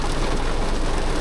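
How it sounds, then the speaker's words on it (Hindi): Heavy rain drumming on the roof and glass of a Hyundai i20 N-Line hatchback during a drive, a loud, dense and steady wash of noise with no talk. "बारिश थोड़ी तेज़ हो रही है."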